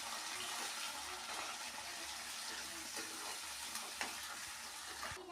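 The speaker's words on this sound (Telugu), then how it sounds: "కొంచెం కరివేపాకు వేస్తాను. బాగా ఫ్రై చేసుకోవాలన్నమాట." Curry leaves and green chilies fry in hot oil, giving a steady crackling sizzle with a few sharper pops, close and moderately loud.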